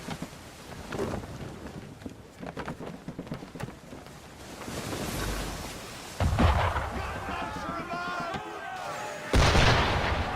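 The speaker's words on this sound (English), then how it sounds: "Why is he shooting at us?" Ship cannons boom in a cutscene from Assassin's Creed, heavy low blasts rolling out amid rumbling noise, with a couple of sharper, louder impacts near the end.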